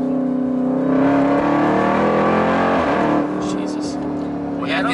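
Supercharged Jeep Trackhawk SUV engine roaring loudly under acceleration in manual mode, a steady dense drone heard from inside the cabin, with a voice speaking over it.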